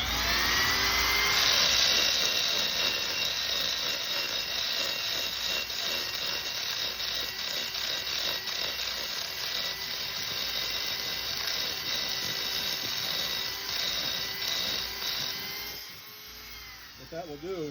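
High-pitched whine of a power grinder deburring ported Power Stroke cylinder heads in a machine shop, running steady and loud for most of the clip before cutting off briefly near the end.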